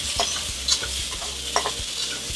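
Beef for lomo saltado stir-fries over high heat in a pan, a continuous bright sizzle broken by several sharp stirring scrapes and clacks, close up and without speech.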